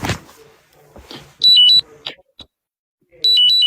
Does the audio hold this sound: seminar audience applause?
no